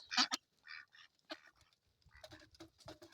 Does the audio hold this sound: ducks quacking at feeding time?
yes